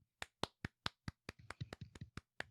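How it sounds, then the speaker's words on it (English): A small group claps by hand, a dozen or so crisp, fairly quiet claps that start evenly spaced, bunch into a quicker flurry, then thin out again. "Everybody clap"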